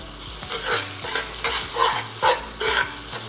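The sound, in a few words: rice frying and popping in pan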